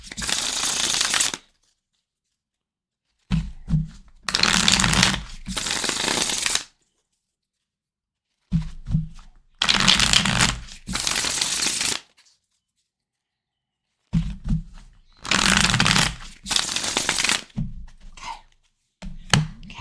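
Tarot cards shuffled by hand in bursts of riffling, about five separate rounds of a few seconds each, with silent gaps between them and no talking.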